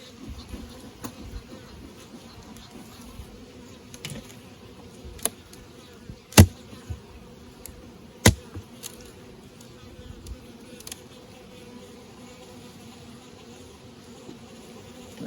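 Honey bees buzz steadily around an open hive during a honey check, a continuous close insect drone with a few sharp clicks and knocks from handling the hive.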